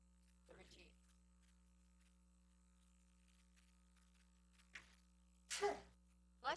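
A sneeze bursts out sharply near the end of a quiet meeting room recording, preceded by a softer breathy sound, all over a steady electrical mains hum.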